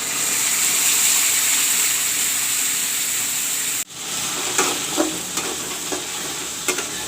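Masala paste for a Bengali fish curry fries loudly in a hot pan, a steady close sizzle that briefly cuts out, then returns with occasional spoon stirs and soft spatters.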